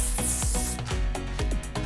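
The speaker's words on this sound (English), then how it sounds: "otherwise just spraying all over" Repeated short bursts of hairspray hiss in quick succession onto fine hair, close and fairly loud, with faint rubbing between them.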